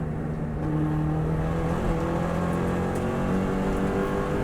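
A Subaru WRX STI engine pulls hard on the Isle of Man TT course after a downshift, a loud, steady rising drone with wind rush and no talk over it.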